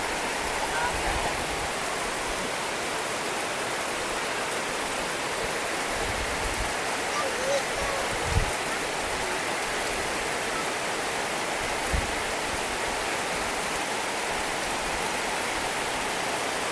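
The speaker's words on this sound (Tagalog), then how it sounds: "madilim at gawa nga ng bagsak na ito ng ulan." Steady, heavy rain pours in a dense, even hiss, with a few faint low thumps and soft voices barely audible beneath it.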